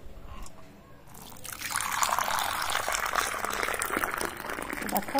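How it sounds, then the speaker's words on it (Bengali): Hot water pours steadily into a dish during home cooking, a close, continuous splashing rush that starts after a brief quiet moment and keeps going to the end, with no talking. "তো ফ্রেশ দিয়ে দিলাম, এবার দিয়ে দেব গরম জল।"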